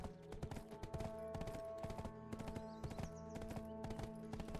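A horse's hooves clip-clop in a steady, even trot in the video game Black Desert, a continuous run of quiet, close hoofbeats over a low, humming game backdrop with no talking.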